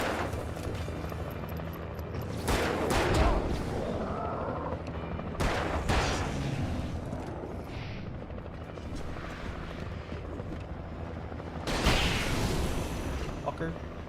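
Flashbangs going off in the video game Alan Wake: three sharp, loud bursts about three seconds apart over a constant rumbling game backdrop, with a person talking in between.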